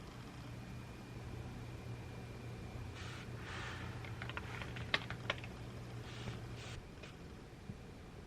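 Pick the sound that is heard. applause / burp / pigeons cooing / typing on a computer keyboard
typing on a computer keyboard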